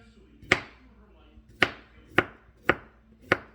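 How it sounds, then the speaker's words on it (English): Five sharp knife chops hit a cutting board at an uneven pace while pickle is sliced thin for a creamy cucumber salad, each a crisp close knock with a short ringing tail. "So I chop up about a cup and a half of pickle, slice it up as thin as I can."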